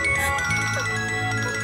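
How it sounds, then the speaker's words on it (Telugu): A mobile phone ringtone plays steadily in a Telugu film scene, a sustained electronic melody with layered tones that stays loud and continuous for the whole moment, with no voices over it. "ఫోన్"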